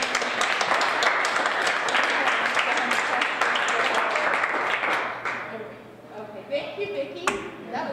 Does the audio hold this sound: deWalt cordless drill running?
no